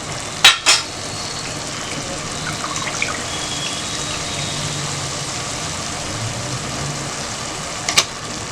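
Chicken frying with curry masala in a home kitchen pan gives a steady close sizzle throughout, with a couple of sharp utensil clanks near the start and end; no one speaks.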